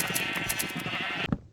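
Minecraft sheep give a wavering, buzzy bleat that runs for over a second before cutting off sharply, followed by a brief soft thud, close and clear with no speech.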